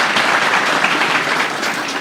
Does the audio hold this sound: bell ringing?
no